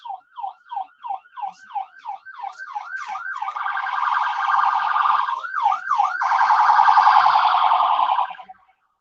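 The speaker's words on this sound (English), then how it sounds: "That's an ambulance." An ambulance siren wails, cycling quickly up and down, then shifts into a steadier, rougher whine before falling back to rapid yelps and fading out.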